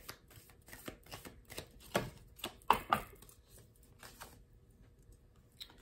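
Tarot cards being shuffled, soft papery riffles and taps in quick irregular bursts, close and quiet.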